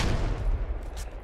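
Grenade explosion in the video game Squad, heard as a loud, broad low-end blast and rumble that stays heavy for a moment before easing slightly.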